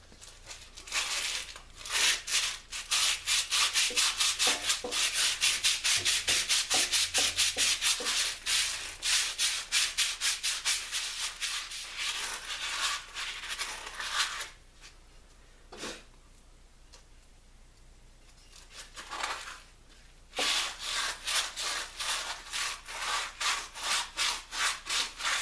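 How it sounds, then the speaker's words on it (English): Rhythmic back-and-forth scraping of hand sanding pads on a wooden kuksa cup, fast repeated strokes, close and loud, pausing briefly before resuming. "I'm gonna start sanding"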